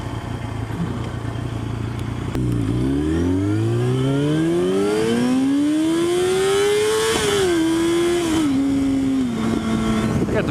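A Yamaha Fazer motorcycle accelerates hard into a wheelie. The close engine note climbs steadily in pitch through the gears, with brief dips at each shift, over constant wind rush.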